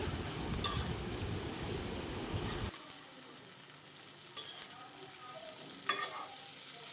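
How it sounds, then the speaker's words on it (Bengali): Egg and eggplant curry being stirred in a frying pan, with loud sizzling and scraping for the first few seconds, then softer frying with occasional sharp scrapes of the utensil. "এবং এখন ডিম দিয়ে ভালো করে নেড়ে দিচ্ছি"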